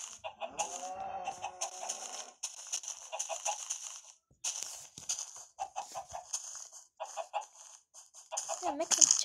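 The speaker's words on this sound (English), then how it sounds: "Now to breed the chickens!" Chickens in Minecraft cluck and squawk in short, repeated bursts, close and fairly loud, with brief pauses between calls.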